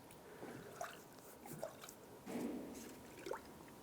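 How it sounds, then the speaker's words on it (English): Engine coolant gurgles and bubbles in a filling funnel on a 1997-2001 Lexus ES 300 after a timing belt and water pump replacement, with soft irregular pops and drips over a faint, quiet background. "Let's fill it up until it stops bubbling by itself."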